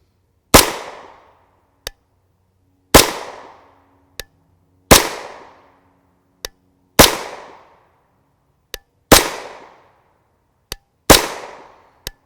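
Six loud, sharp gunshots from 9x19mm 151gr FMJ subsonic Barnaul rounds fired through an Evo carbine, spaced about two seconds apart. Each report rings out briefly, then a faint metallic clink follows it.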